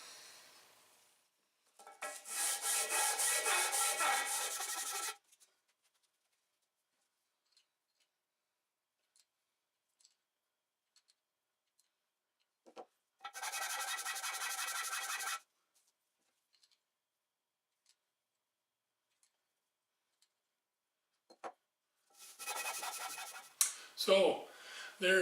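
A steel V-block lapped by hand, heard as two long bursts of bright, even scraping separated by silence, with a shorter rough scrape returning at the end.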